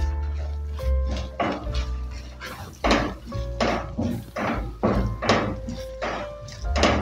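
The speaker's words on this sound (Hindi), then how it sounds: "अच्छी तरह मिक्स कर देंगे दाल के अंदर" Grated khoya being stirred into roasted chana dal in a pan while making halwa: repeated clanking and scraping knocks of a spoon against the metal pan at an uneven rhythm, close and fairly quiet.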